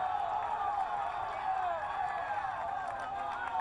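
Roadside crowd at the summit of a cycling stage, producing a continuous dense roar of cheering and shouting as riders come over the top, with no pauses.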